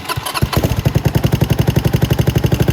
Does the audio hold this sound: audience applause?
no